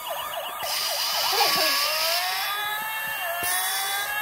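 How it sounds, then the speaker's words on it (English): A toy fire truck's electronic siren wails close by, first in quick repeated yelps and then in a long rising and falling whoop over a steady hum, loud and continuous. "cool fire truck, Brandy."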